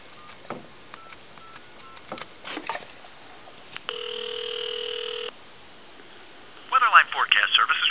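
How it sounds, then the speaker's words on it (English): A wooden wall phone's dial tone hums steadily for over a second, followed by a rapid burst of touchtone dialing beeps, with faint clicks and brief talk before. "so let's take it off the hook. Dial tone."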